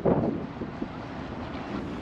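Wind buffets the microphone on a boat waiting at a canal lock on the North Sea Canal near Amsterdam, a steady low rumbling roar with a stronger gust at the start, no voices.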